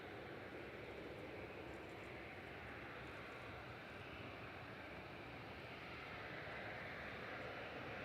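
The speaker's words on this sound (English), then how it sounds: "heading back to Dubai is Emirates Flight 22, A380, A6 EVB" An Emirates A380 airliner departs Manchester Airport for Dubai, its engines making a steady, broad, distant roar that holds evenly, with no talking.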